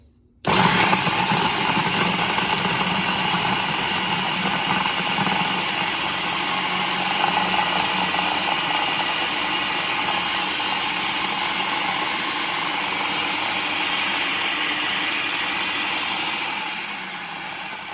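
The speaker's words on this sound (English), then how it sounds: "we're going to whip our blender back on again" A blender whirs continuously, mixing frozen banana ice cream with oat milk, a loud steady motor drone that starts abruptly and runs for a long stretch before easing off slightly at the end.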